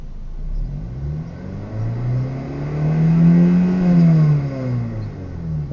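Engine of a 2004 Acura RSX with a bad solenoid, revved toward 5,000 rpm, rising steadily in pitch over several seconds and then easing back, loud and close with no talk.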